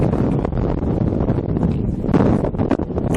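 Strong wind buffets the microphone on an exposed moorland walk, a loud, continuous roar with rough gusting surges and no pauses.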